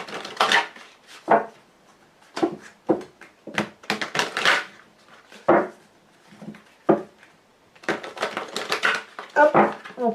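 A Lenormand card deck is shuffled and cut by hand, a series of crisp papery riffles and taps in irregular bursts with short pauses between them, close and clear, with no talk.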